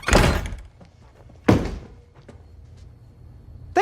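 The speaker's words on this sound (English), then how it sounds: "Shut the front door." A door is shut with a heavy thunk, followed by a second firm slam and lighter knocks and taps, each impact sharp and close, with a final thud at the end.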